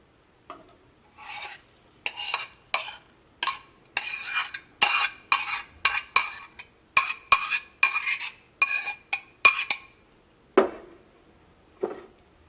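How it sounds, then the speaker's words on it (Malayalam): An egg mixture is stirred and spread in an oiled pan over a medium flame, a steady run of sharp spoon-on-pan scrapes and clinks in quick bursts with a light sizzle underneath, close and without speech. "ഈ നമ്മുടെ മിക്സിങ് നമ്മൾ ഇതിലേക്ക് ഒഴിക്കാൻ വേണ്ടിയിട്ട് പോവാണ്"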